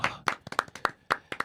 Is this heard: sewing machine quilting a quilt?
no